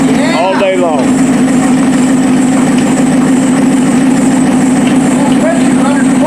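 A 1956 Lincoln Y-block V8 running on propane idles with a steady, even low drone, loud and close, while people talk over it.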